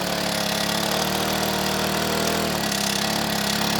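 Petrol engine of an agricultural spray pump running in a field, a loud, close, continuous buzzing drone with slight changes in pitch as it is revved.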